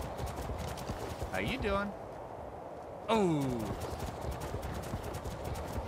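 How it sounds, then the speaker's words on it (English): A horse in the survival video game Ark clip-clops along in a snowy area, steady hoof beats under someone talking, with a whinny-like call rising twice. "Hello, horse."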